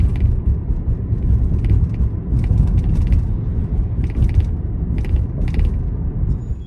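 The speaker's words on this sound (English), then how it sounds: "the passenger side seat belt adjuster mechanism rattles pretty crazy" Passenger-side seat belt adjuster in a Tesla Model Y rattling over road rumble while driving, with irregular clusters of sharp plastic clicks and taps scattered through a steady low cabin drone.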